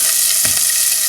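Garlic, ginger, onion and star anise frying in a spoonful of oil for a Taiwanese beef noodle soup, a steady close hiss of sizzling with a brief soft clatter midway.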